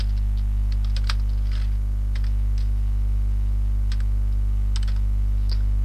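Scattered clicks of keys on a computer keyboard, light and irregular, sitting over a loud steady electrical hum.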